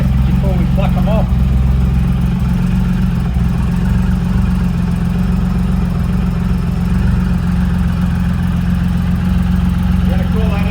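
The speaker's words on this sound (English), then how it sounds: "We're just going to do a quick test before we pluck them off." Triumph Rocket III motorcycle idling on its front factory exhaust, a steady loud low rumble held throughout at close range with no talk over it.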